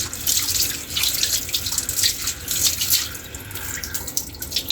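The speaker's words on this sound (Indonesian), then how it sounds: "Itu saya akan membersihkan atau membilas menggunakan air mengalir." Hands rinsed under a running tap during handwashing, a steady splashing water stream close by with uneven bursts as the hands move, no talking.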